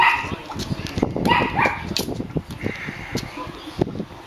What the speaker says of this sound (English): Damn barking rats next door.